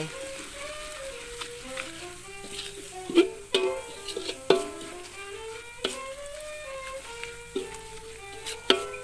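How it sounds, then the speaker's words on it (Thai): Cane sugar is stir-fried and simmered in oil in a pan, with a low bubbling sizzle broken by repeated spoon scrapes and taps, faint and close, with soft speech in the background. "แล้วก็เติมน้ำมันน้ำตาลอ้อยไปค่ะ น้ำตาลอ้อยเราก็ใส่ให้ สักสองช้อนนะคะสองช้อน เคี่ยวไปค่ะผัดเคี่ยวไป"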